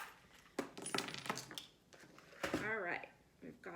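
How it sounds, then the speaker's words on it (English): Small metal charms clink as they are dropped and scattered onto a surface during a tarot reading, several light, quiet jingles and taps in quick succession at close range. "We'll take out a couple charms because we have a few more letters in here."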